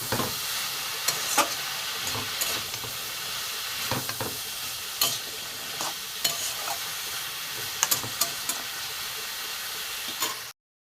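Spiced taro stolons frying in a pan as they are stirred, a constant close sizzle and hiss broken by irregular scrapes and knocks of the spatula against the pan, with no talking.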